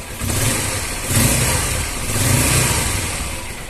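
Honda XR 150L motorcycle engine under repair, running on a stand and warming up, loud and close, with three gentle rises and falls in revs over a steady throaty drone.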